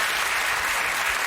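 Steady, dense applause from a studio audience at a British TV comedy panel show, Mock The Week, a short unbroken burst of many hands clapping.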